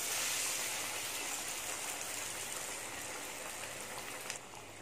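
Masala vada frying in hot oil, four fritters in the pan giving a steady, dense, hissing sizzle with fine crackles throughout, close and continuous.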